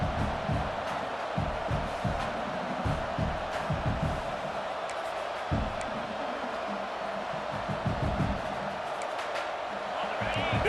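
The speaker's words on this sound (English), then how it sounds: "This crowd bringing the energy and noise early." Stadium crowd noise at a football game between Oregon and Arkansas, a steady broad roar of many voices with rhythmic bursts of cheering and chanting that fill the whole stretch.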